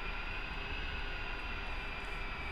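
A-10 Warthog in the DCS World flight simulator preparing for takeoff, a steady jet engine whine and rumble, constant and close with no voices.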